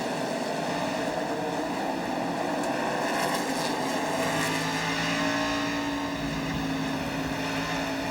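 NASCAR Truck Series race trucks, Fords, Chevys and Dodges, at the 1996 race in Louisville, with a continuous loud roar of several engines at high revs and a slight rising pitch as the pack passes, no talking.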